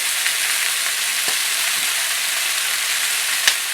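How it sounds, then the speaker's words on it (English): Smoky bacon frying in a pan for a chicken cassoulet, a loud, continuous bright sizzle with a few soft taps and clicks of the pan, close up and with nobody speaking. "I'm going to toss in that beautiful smoky bacon."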